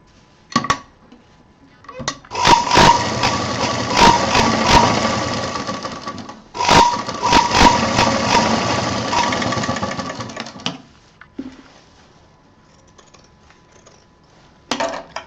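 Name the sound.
sewing machine stitching zip to fabric for handbag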